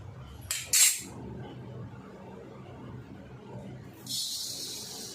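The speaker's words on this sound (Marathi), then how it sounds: "आता आपण पहिल्यांदा धने भाजून घेऊया।" Coriander seeds dry roasting in a pan without oil, heard as brief scraping and rattling bursts from stirring over a low steady background, with a longer hiss of seeds moving near the end.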